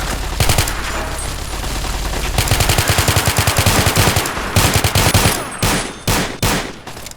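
An AK-12 rifle fires in Fallout New Vegas, a long rapid automatic burst of loud, sharp reports that breaks into shorter separate volleys and single shots toward the end.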